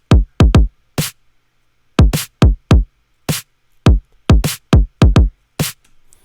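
Unprocessed synthwave kick and snare drums from Ableton Live play by themselves, loud punchy kicks and snare hits in a steady repeating groove with short silent gaps between the beats.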